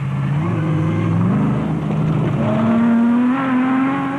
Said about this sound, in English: The battered-looking Toyota, showing the scars of battle, sped by, and DSP could not come fast enough for Mark